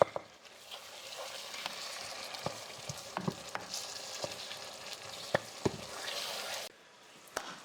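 Chili cooking in a pot gives a steady, close sizzle with scattered sharp clicks and knocks of stirring, then drops quieter near the end.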